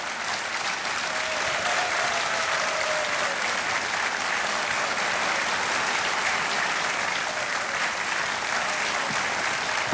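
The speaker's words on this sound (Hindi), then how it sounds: "तालियां जोरदार से बजनी चाहिए" Loud, sustained studio audience applause on a televised quiz show after a contestant wins prize money, thick continuous clapping that carries unbroken for ten seconds.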